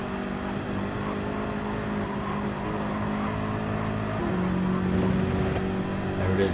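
A BMW and a Porsche race car on the Nürburgring Nordschleife roar by in a steady, droning engine note, which rises slightly as the cars draw nearer.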